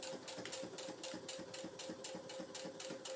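Sewing machine running slowly as it stitches a handbag, a soft, steady rhythmic clatter of evenly spaced needle strokes over a faint motor hum.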